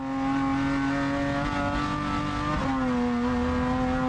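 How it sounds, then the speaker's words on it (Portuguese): A NASCAR Brasil race car engine screams at high revs as it accelerates out of a corner at Londrina, loud and sustained, with a brief dip in pitch midway before it climbs again. "Escuta o barulho do motor."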